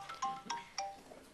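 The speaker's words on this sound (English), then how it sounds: "Excuse me, that's my phone." A mobile phone ringtone goes off during a congressional hearing on domestic violence, three bright electronic chime bursts in quick succession, moderately loud and close, with a faint fourth tone trailing off at the end.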